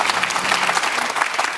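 Steady audience applause fills a televised live town-hall broadcast with the president, dense even clapping throughout a short stretch with no voices over it.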